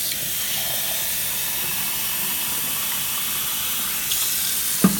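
Tap water runs steadily into a cup measure for baking, a continuous close hiss and splash that keeps going for several seconds, with a brief clink near the end.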